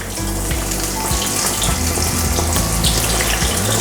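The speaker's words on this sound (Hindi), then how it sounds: "ऑयल गर्म हो चुका है और मीडियम लो फ्लेम मैंने रखी है और मैं अब इसमें फ्राई कर लूँगी" Coated mac and cheese balls frying in hot oil over a medium-low flame: a dense, continuous bubbling crackle, close and loud, with no voices.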